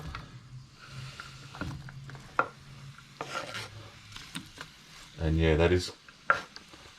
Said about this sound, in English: to that I'm going to add 2 large brown onions that I've sliced.